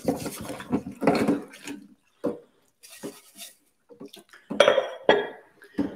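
A metal pan handled in a home kitchen during tart making, with several close, loud clanks and clinks separated by short pauses.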